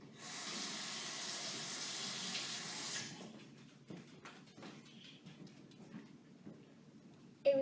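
Tap water runs steadily into a sink for about three seconds, then cuts off, leaving soft clicks, wet handling noises and a final brief clatter.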